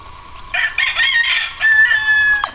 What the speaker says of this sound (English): We've got a few noisy cockerels.